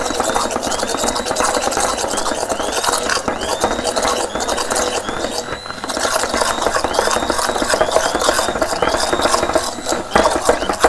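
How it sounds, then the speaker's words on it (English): A NutriBullet blender whirs with a close, gritty mechanical drone. Repeated rising whines and rattling pulses run throughout. "I'm going to hand blend. Put it into the NutriBullet."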